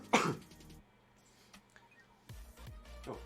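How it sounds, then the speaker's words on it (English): A single sharp cough bursts out near the start, followed by quiet rustling, faint clicks and a soft breathy sound near the end. "I think I stretched too hard, made myself cough."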